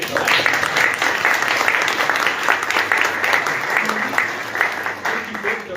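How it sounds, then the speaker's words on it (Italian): Sustained applause from an audience, dense clapping holding steady throughout. "e ringrazio il tenente colonnello Filomeni, vi chiedo un applauso cumulativo"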